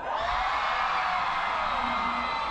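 A large crowd at a football-themed evening show in Tampico yells and whoops together in one sustained, loud roar that fills the whole moment.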